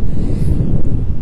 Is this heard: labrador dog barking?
no